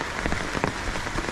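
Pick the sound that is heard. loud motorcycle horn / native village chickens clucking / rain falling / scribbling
rain falling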